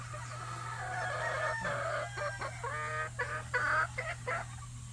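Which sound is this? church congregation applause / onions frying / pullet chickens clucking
pullet chickens clucking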